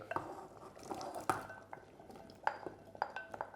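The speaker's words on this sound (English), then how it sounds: "So after about an hour and a half or so, you can add your carrot and your potato." Carrots and potatoes go into a pot of Vietnamese beef stew with faint clinks of utensils and pot, soft knocks, and light liquid movement.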